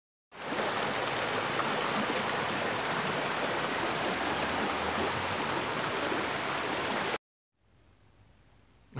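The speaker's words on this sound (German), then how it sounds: "Dahinter ist direkt das Haus, seht ihr, also direkt am Fluss gelegen." A river flows right beside a house in Paraguay, a steady, even rushing of water heard alone for several seconds before it cuts off abruptly into near quiet.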